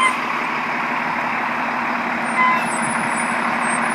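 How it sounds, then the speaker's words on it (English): A motorhome bus idles and creeps forward with a steady low engine drone and hum, a faint high whine on top and a slight bump in loudness partway through, with no voices. "I have to reposition the bus, the motorhome, a little bit to hook the car up"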